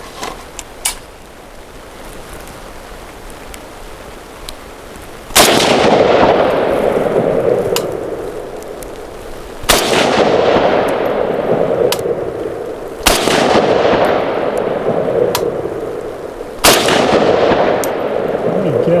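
Four loud rifle shots from a VSKA rifle spaced a few seconds apart, each followed by a long rolling echo; a faint metallic ring from a struck 6-inch steel target at 48 yards.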